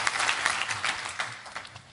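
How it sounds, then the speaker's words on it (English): An audience at a startup event claps together, a dense burst of applause that fades slightly toward the end, with no one speaking. "would like to have a big applause for them"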